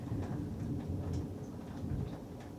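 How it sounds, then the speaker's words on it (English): Thunder rolls in low and continuous during a storm, with a steady rumbling wash and scattered crackles; no voices. "I can see flashes of light happening behind me and then I hear the thunder."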